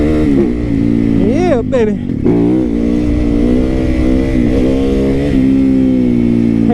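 An adventure motorcycle engine drones loud and close, revving up and down through its throttle before settling into a steady throb, with a voice over it briefly.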